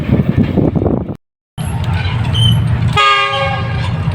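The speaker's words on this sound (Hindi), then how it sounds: "ज़बरदस्त पासिंग, फास्ट एक्शन सेठारजा स्टेशन से KPA 2 अप" A train passes close through Setharja railway station with a loud rolling rumble of wagons, a brief dropout, then a strong sustained horn blast over the continuing clatter.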